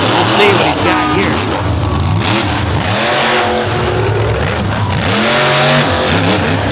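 A monster truck's engine revs hard during a competition run, its custom-built motor roaring loud and close with rising and falling pitch sweeps, blended with crowd and announcer noise throughout.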